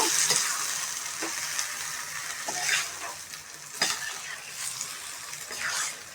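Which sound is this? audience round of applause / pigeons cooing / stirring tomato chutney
stirring tomato chutney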